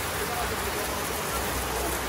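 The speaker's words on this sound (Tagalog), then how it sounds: "Grabe po ang ulan." Heavy rain pours down steadily, a dense, loud, unbroken hiss of falling water with no pauses.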